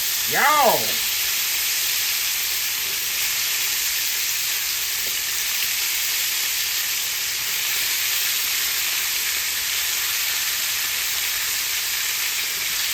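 Potatoes fry in a smoking hot skillet with a steady, loud sizzle and hiss that runs throughout, after a brief clatter as they drop in at the start, with no talking.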